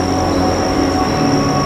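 A train hauled by a CC201 locomotive rumbles past at close range west of Gedebage Station, loud and continuous, with a high metallic squeal of wheels ringing over the roar.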